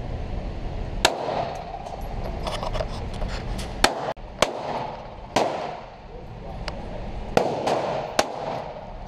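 Roughly seven sharp handgun shots ring out at irregular intervals at a shooting range, each a loud crack with a short echo over a constant background hum.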